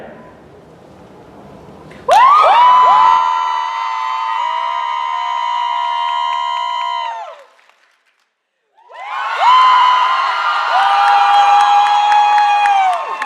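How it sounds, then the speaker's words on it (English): Convention crowd at Ichibancon 2019 cheering and whooping loudly for a contest winner in two strong bursts separated by a brief quiet gap, many voices shouting together. "I want you to cheer for who you think the winner is"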